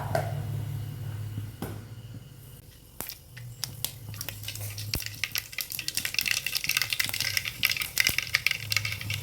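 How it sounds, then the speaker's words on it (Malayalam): Mustard seeds crackle and pop in hot oil, the spluttering growing denser and louder toward the end after a few scattered clicks. "അതിൻ്റെ അകത്തേക്ക് കടുകിടാം."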